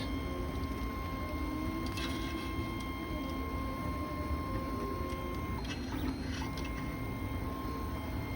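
A 3D printer printing with filament, steady whirring and high stepper-motor tones running continuously at moderate level, with faint clicks partway through.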